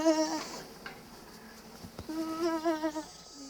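Ewes and lambs bleat on a Victorian-style farm as the lambs are moved, several wavering calls near and farther off, fairly quiet against an open outdoor background.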